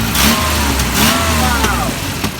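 A Volvo engine fires up and revs, a loud rough mid-pitched roar that swells and dips unevenly, close by and running alone.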